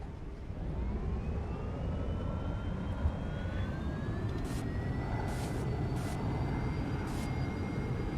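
Simulated NASA Lunar Landing Research Vehicle jet engine holding a steady hover in X-Plane 12, a continuous loud roar with rising whining tones and a few brief hissing bursts.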